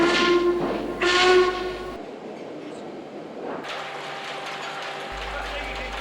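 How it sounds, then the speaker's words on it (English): A loud boat steam whistle hoots twice in quick succession, followed by a steady hiss of steam. "The cheeky hoot of a boat whistle."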